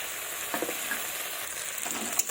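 Fried eggplant being stirred with spices in hot oil, a steady soft sizzle with a few scraping stirs and light clinks, close and fairly quiet, no voices.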